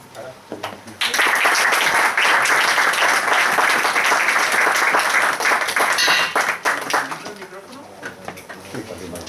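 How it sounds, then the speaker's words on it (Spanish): Audience applause at an art and method talk bursts in after a brief quiet moment, a dense, loud clapping that holds steady for several seconds before thinning out near the end. "simplemente pido un aplauso para"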